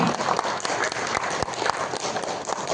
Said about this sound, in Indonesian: Kita beri tepuk tangan untuk para narasumber kita yang sudah hadir di sini.